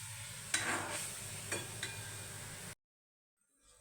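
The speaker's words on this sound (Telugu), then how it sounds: "అదే ప్యాన్లో మరికొద్దిగా నూనె వేసుకొని చింతపండు గుజ్జు మాత్రమే వేసుకోండి." Tamarind pulp cooking in oil in a pan, a steady sizzle with a few spoon scrapes and taps as it is stirred, then cutting to near silence.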